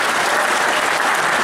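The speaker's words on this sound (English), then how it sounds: "Give him an applause, guys." Audience applause for a prize winner called to the stage at a welcome and awards event, a dense, steady burst of many hands clapping throughout without talk.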